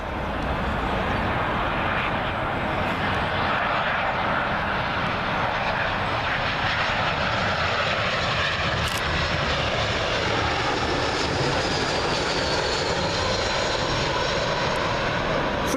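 Eurowings Airbus A319 airliner on approach into Heathrow runway 27L, a loud continuous jet roar directly overhead with a slowly shifting whine, sustained the whole time and free of talk.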